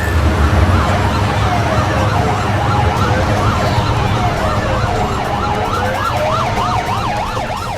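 A wailing ambulance siren rises and falls continuously over heavy traffic and engine rumble on a street at an emergency scene, loud and close throughout.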